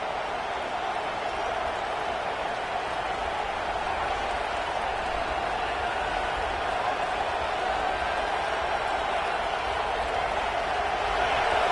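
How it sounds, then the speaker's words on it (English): A home stadium crowd roars in a continuous, dense wash of cheering and noise that holds steady throughout. "This crowd bringing the energy and noise early."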